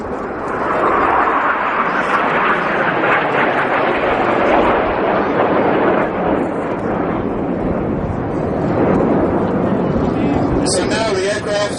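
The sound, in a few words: Red Arrows jet aircraft flying overhead in formation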